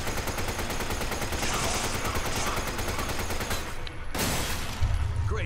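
Gunshots in Resident Evil 5 come as a fast, evenly spaced series of loud cracks, then a brief lull and a few more heavy blasts.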